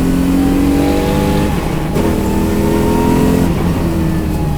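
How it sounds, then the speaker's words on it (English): An LS V8 swapped into a Subaru BRZ roars loudly from inside the cabin, holding a steady drone, then climbing and shifting pitch as it pulls hard under acceleration. "the engine is so good and it's not overpowered"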